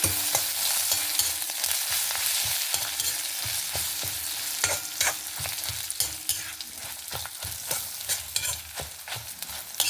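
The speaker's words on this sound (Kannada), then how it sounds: "ಕಡಲೆಬೇಳೆ ಎಲ್ಲ ಹುರಿತಲ್ಲ." Chana dal, urad dal, pepper and curry leaves roast in a spoonful of oil in a pan for temple-style sambar, giving a steady dry sizzle with frequent quick scraping stirs close by.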